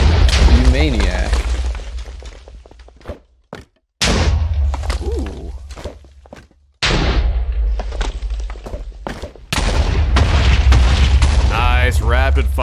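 Bomb explosions from the video game Bomb Buddies, deep booming thuds repeating in quick succession beneath lively speech from players, with brief silent gaps between bursts.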